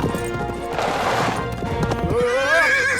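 A horse gives a loud, wavering neigh while its hooves clip-clop close by, a short burst of hoof beats followed by the rising and falling whinny.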